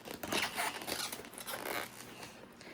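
Cardboard advent calendar box opened by its pull tab, giving a continuous run of tearing, crinkling and scraping paper sounds close up for almost three seconds, with no talking.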